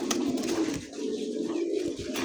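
A pigeon offered for sale coos nearby in low, throaty, repeated notes, a rolling rhythmic burble that continues for a couple of seconds over faint background noise.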